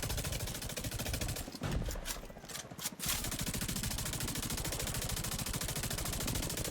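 Sustained automatic gunfire in The Division 2, a dense rapid stream of shots that drops out briefly with a few sharp bursts, then resumes as continuous loud firing.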